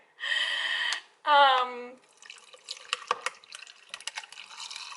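Carbonated cider fizzes over from a freshly opened bottle: a sharp hiss and a startled vocal gasp, then close crackling bubbles and dripping liquid that keep popping irregularly.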